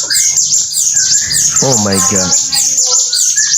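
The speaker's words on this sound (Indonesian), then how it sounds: "Burung-burung apa ini?" Birds chirp and tweet continuously in a dense, loud chorus, with a brief exclaimed voice breaking in partway through.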